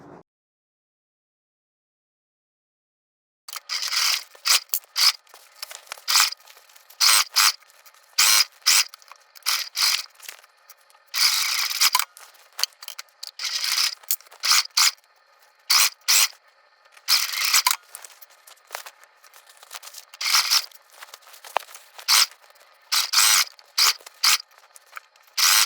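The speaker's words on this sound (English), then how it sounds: "obviously we're going to sew all the way around the base of this into the bag" A sewing machine stitches around the base of a fabric tote bag in bursts of rapid mechanical clatter, starting after a few seconds of silence and stopping and restarting repeatedly, close and fairly loud.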